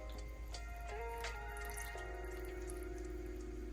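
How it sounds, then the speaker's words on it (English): Buttermilk pours into a bowl for a chicken pot pie, making a steady, close liquid glugging stream with a rising and falling gurgle that settles into a constant pour. "now we're gonna add in our buttermilk"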